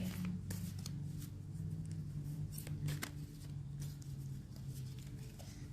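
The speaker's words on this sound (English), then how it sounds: "So I'm just going to shuffle this really quick" Deck of tarot cards shuffled by hand: soft, quick riffling and papery flicks heard close up over a steady low room hum.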